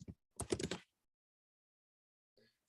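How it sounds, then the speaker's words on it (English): Typing on a computer keyboard: a quick burst of clicky keystrokes, close and crisp, followed by silence and a few faint key taps at the end. "So if we just go to search events and we're just typing networking"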